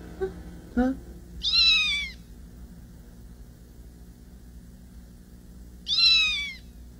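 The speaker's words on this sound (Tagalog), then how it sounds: "Ay, pusa lang pala." Two short meows about four seconds apart, moderately close, over a low steady background hum, with a faint brief noise near the start.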